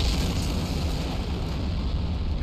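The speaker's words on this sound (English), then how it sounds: "that heavy explosion is one of the giants that doesn't like the fact that you're on top of his tower" A giant's heavy explosion in Dark Souls Remastered, a loud, sustained, broadband boom with deep rumbling low end that fills the whole moment without letup.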